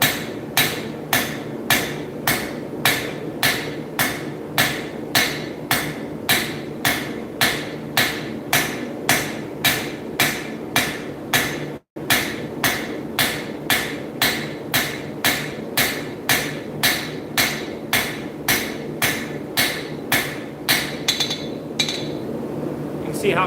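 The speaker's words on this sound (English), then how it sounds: "So I'm going to take the rounded part of my hammer, start up here at the top, and start forging it down." Blacksmith's rounded hammer strikes metal on an anvil in a fast, steady rhythm of sharp ringing blows, close and loud, tapering a bar down to a point with one brief pause midway.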